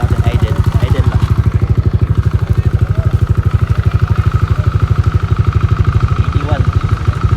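A motorcycle fitted with a DC8 exhaust pipe idles during a decibel test, a loud, close, rapid and even low exhaust pulse that runs throughout while people talk faintly in the background.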